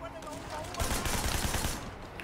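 Rapid gunfire in a Hong Kong open-world crime action game blasts a wall apart, a dense burst of shots and crumbling impacts in the middle of steady background game noise, fairly faint overall.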